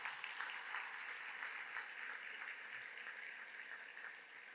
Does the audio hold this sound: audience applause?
yes